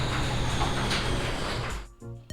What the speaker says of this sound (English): And there goes the garage door.